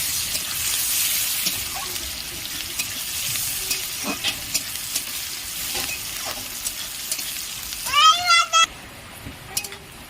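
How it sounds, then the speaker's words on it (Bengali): Chopped onions frying in a pan for a Bengali rui posto fish dish, with a constant sizzle and scattered stirring clinks up close, while someone speaks briefly near the end. "আমি দিয়ে দিলাম পেঁয়াজ কুচি। ভালো করে ভেজে নেব।"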